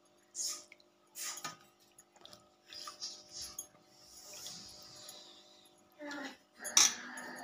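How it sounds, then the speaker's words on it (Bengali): Washed eggplants set one by one onto a metal plate in a home kitchen, giving several separate clinks and clatters spread across the span, close and moderately loud with quiet gaps between. "দেখো ধুয়ে প্রথমে একটা থালার মধ্যে আমি তুলে নিচ্ছি বেগুনগুলো।"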